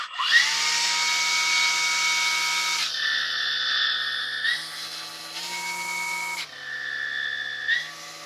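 A STIHL FSA 200 R battery brushcutter spins up into a loud, steady electric whine, then shifts pitch several times as the throttle is eased and squeezed again.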